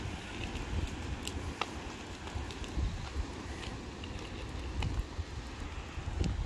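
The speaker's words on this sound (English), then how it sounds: "Yeah, it's still windy." Steady wind buffeting a microphone outdoors, a low rumbling roar with gusty bursts and a few faint clicks, no voices.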